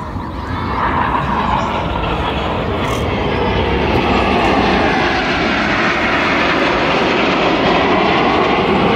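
Red Arrows display jets roar overhead at the Southport Air Show, a loud, continuous engine rumble that holds steady throughout without any talk.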